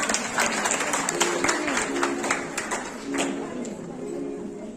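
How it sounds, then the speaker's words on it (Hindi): Applause from an audience at a women's honour ceremony in Raipur, moderate and steady, with a melodic tone and some voices audible in the background. "जोरदार ताली से स्वागत कीजिए।"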